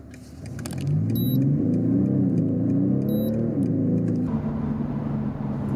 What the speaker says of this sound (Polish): Światła się zmieniają i idą pełną fają.